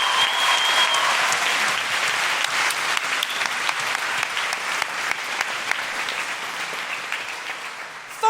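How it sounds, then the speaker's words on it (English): Sustained, dense applause from a live comedy audience in a venue, loud and close throughout with no voices standing out. "Big round of applause."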